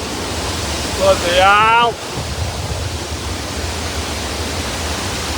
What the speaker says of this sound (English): Right, here come the waterfalls.